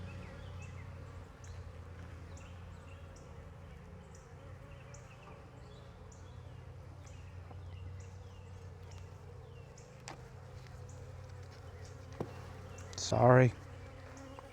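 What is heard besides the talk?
honeybees buzzing during hive inspection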